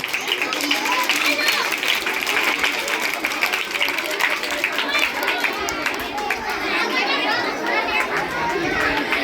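Schoolchildren clapping in a classroom, a dense continuous patter of many small hands mixed with lively children's chatter and shouting, fairly close and loud throughout.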